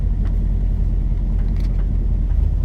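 An old car's engine rumbles low and steady while driving, a close, continuous deep drone with slight rhythmic pulsing and no talking over it.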